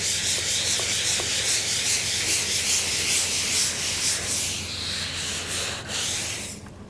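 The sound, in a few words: rubbing blue paint off a surface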